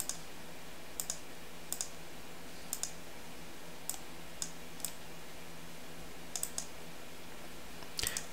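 A computer keyboard is tapped in short bursts of separate, crisp key clicks with pauses between them, fairly faint and close in an otherwise quiet room.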